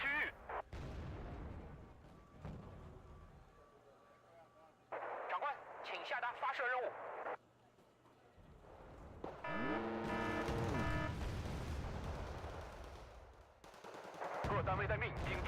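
Gunfire and artillery fire support in the video game Wargame: Red Dragon, with bursts of shots and booming impacts coming and going over a battlefield din, a voice talking in between.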